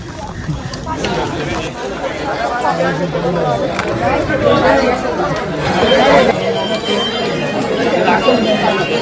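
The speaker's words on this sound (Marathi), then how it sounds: "मित्रांनो फुल गर्दी आहे" Dense, steady crowd chatter fills a packed outdoor pilgrimage gathering, a continuous babble of many voices close around the listener with no pauses.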